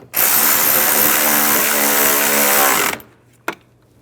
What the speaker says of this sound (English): And tighten those down.